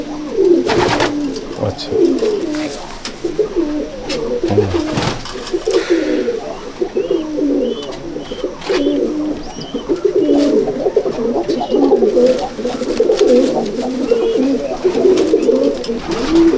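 Many pigeons coo steadily in a racing pigeon loft, a dense overlapping chorus running throughout, with a brief spoken word from a man near the start.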